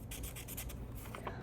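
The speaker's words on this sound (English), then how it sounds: "So that's the sketch pen's color." Sketch pen rubbing and scratching across paper in quick, rhythmic strokes, close and fairly quiet, with soft broadband swishes over a steady low background hum.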